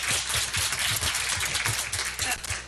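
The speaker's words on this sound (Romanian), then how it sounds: "dați aplaudăm încă o dată" Audience applause at the launch of a digital platform, a dense steady wash of many hands clapping from a crowd, fairly loud and continuous throughout with no talk over it.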